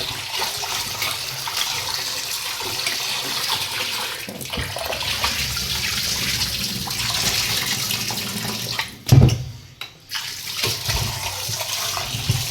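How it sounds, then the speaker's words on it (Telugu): Tap water runs steadily over fish pieces being washed in a bowl, a continuous splashing flow with a brief louder splash and pause near the end as the water is tipped out. "వీటిని తీసేసి మళ్ళీ మంచి వాటర్ వేసుకొని మళ్ళీ కడుక్కుందాం ఇంకొక 2 టైమ్స్"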